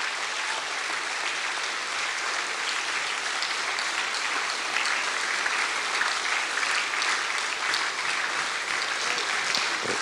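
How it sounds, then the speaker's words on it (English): Steady, dense clapping from a church congregation at a bishop's consecration service, loud and continuous throughout with no break. "Keep clapping. Keep clapping."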